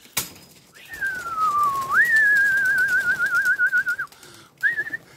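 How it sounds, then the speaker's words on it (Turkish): A single high, clear whistled tone from young racing pigeons glides and wavers for a few seconds, loud and close, then a short warbling burst follows after a pause. "Şimdi gelelim bizim yavru kızancıklara."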